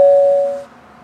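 A single electronic doorbell chime rings out clearly, holding a steady tone for about half a second before cutting off and fading into quiet.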